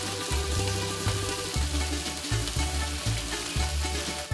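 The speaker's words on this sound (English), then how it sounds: "add the oil to our pan and begin browning each piece of meat" Pieces of hare or rabbit meat brown in hot oil in a pan with a loud, continuous sizzle, while rhythmic background music plays underneath.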